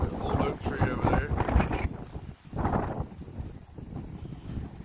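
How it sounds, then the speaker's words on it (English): Wind blowing steadily in Frostproof, Florida, near an old oak tree, with rumbling microphone buffeting, rising into stronger gusts, with a person talking over it. "as you can hear the wind"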